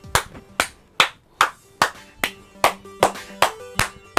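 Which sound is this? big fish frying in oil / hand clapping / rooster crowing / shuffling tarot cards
hand clapping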